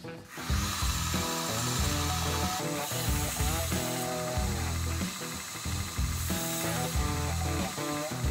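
Copper, nickel and brass metal pieces are cut with a power tool, producing a continuous loud grinding rasp with rhythmic surges, heard close and without speech.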